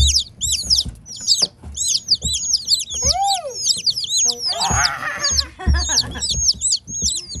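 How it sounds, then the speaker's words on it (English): Chickens cluck and chirp busily in a rapid, overlapping chatter, close by, with a few brief low thumps and no talking. "That's our chickens."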